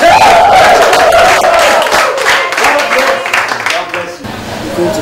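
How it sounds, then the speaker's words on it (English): A church congregation claps together as a clap offering, a dense, loud wash of applause with some cheering that rises and falls unevenly before thinning out. "I want us to give the Lord a clap offering as we welcome him"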